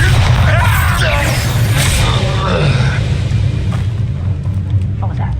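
Bombarda blasting spell detonating in Hogwarts Legacy during a duel, a loud, sustained rumbling blast with crashing and whooshing effects that slowly fade, with a voice speaking over it.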